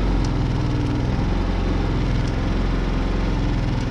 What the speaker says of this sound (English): that's where it idles.